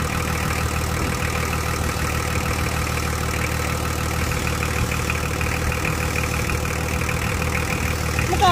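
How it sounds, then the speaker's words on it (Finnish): A Nissan Cedric engine idles while warming up, a steady, even mechanical hum with a faint knocking texture, continuous and moderately close with no talking. "Mukavasti lämmittää jo moottori."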